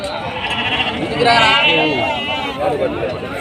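Sheep and lambs bleat at the Gudur weekly livestock market, a few wavering calls rising close by amid crowd chatter and someone talking over the animals.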